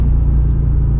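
A 2018 Audi RS3 with a 400 hp engine launches hard under launch control, a loud, deep, sustained engine rumble heard from close by with no talk over it.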